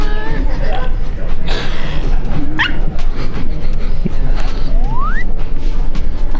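At a busy gala event, a dog lets out a couple of short yips and a rising whine, heard over steady crowd noise and people talking nearby.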